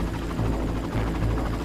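Helicopter in the video game Far Cry, a steady droning rotor hum with a pulsing chop, loud and continuous throughout, with no talk.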